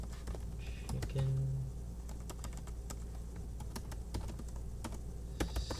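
Scattered, irregular key clicks come from a food-crusted computer keyboard being typed on at a home streaming setup, fairly faint over a low background hum.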